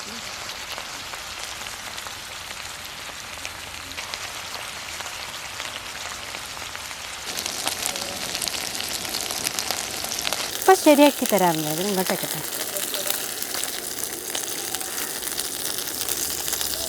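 Masala-coated fish frying in a pan, a steady crackling sizzle throughout, growing louder as the pieces are turned, with brief clatter and someone speaking softly.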